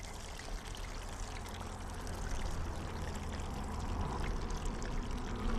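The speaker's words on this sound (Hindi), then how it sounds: "अब इसमें चाँप के कटे हुए पीस ऐड करेंगे।" Cut soya chaap pieces dropped into hot frying oil: a soft, continuous sizzle and bubbling hiss that grows slightly louder, heard faintly up close.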